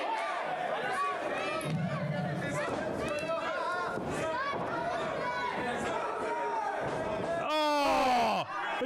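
A wrestling event crowd chants and roars in the background while a commentator talks over it, and a sharp loud shout rises near the end.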